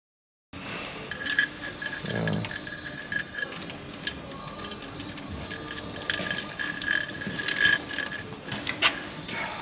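A hand ratchet torques bolts on an Audi 2.0 TFSI CDNB engine in an A5 during timing chain work, giving a steady run of close, fine mechanical clicking with brief pauses in a quiet workshop.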